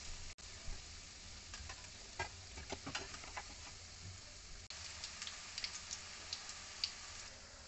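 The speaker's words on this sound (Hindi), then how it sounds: "ये देख सकते हैं चारों तरफ से अच्छी तरह से ये डीप फ्राई हो गया है।" Mixed vegetable pakoras deep-frying in hot oil give a steady, close sizzle with scattered pops and crackles. Brief scraping taps from a utensil come through now and then, and nobody speaks.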